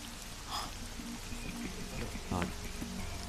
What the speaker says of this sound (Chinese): 现在下雨，有风浪，所以船只暂时不能出港